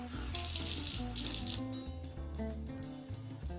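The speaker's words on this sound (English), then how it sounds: "Run some water." Tap water runs into a kitchen sink in a steady close splashing stream with some clinks and knocks underneath. The water is fairly quiet.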